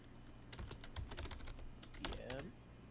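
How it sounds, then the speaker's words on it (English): Rapid, uneven keystrokes clatter on a computer keyboard at close range in a quiet room, arriving in short bursts with brief pauses between them. "Just a second. I'm typing something."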